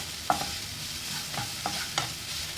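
Vegetables for a paneer sandwich filling sauté in a pan: a soft steady sizzle punctuated by three or four crisp spatula stirring strokes.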